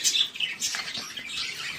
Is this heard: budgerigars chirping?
yes